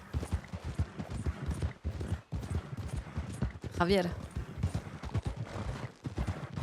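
Galloping hooves from several horses in Red Dead Redemption 2, a fast rhythmic drumming that runs under a voice calling out a name.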